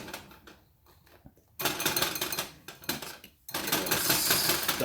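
Cake batter being whisked in a bowl, heard as bursts of loud, rapid metallic scraping and clattering close by, separated by quieter pauses.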